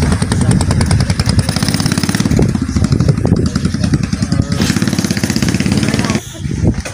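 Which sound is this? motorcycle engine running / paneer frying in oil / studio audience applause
motorcycle engine running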